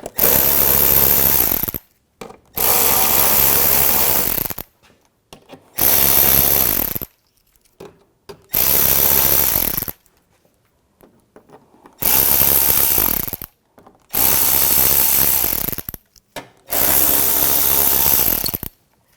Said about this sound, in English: Just use an 8mm socket